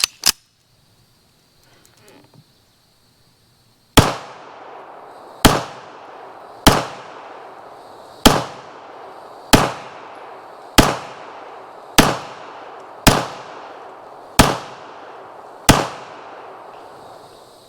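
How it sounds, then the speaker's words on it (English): A WWII Belgian FN High Power pistol fires Phoenix 115 grain ammunition: ten loud, sharp gunshots at a steady pace of roughly one every second and a half, each followed by a brief echoing decay, with a couple of small clicks beforehand. "First shots out of this old gun in a long time."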